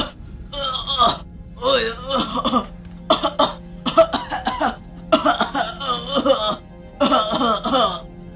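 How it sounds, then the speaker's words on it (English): Several rough, throaty coughs come in short bursts across the clip, close and fairly loud, with pauses between the fits. "We hear someone coughing."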